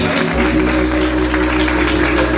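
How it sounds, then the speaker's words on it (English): Church audience applauding at an event honoring a guest, a dense steady wash of clapping with a low hum underneath, loud and close throughout. "Let's give her a round of applause."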